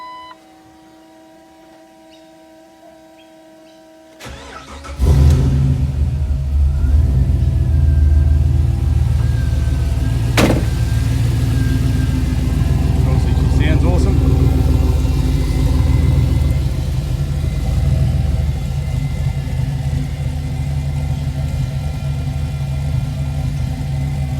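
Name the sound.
car engine revving and idling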